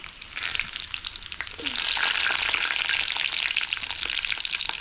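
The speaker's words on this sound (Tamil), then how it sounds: "கடலை பருப்பு பொரிஞ்சிருச்சு இப்போ வந்து ஒரு ரெண்டு வரமிளகாய் சேர்த்துக்கிறேன்" Chana dal and a couple of dried red chillies frying in hot oil, a dense, steady sizzle that swells louder partway through, close by and uninterrupted by any voice.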